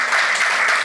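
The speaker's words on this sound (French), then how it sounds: "je vous demande de les applaudir très fort" Loud, dense applause fills the room, a steady wash of many clapping hands at a televised ceremony, holding level for the whole stretch.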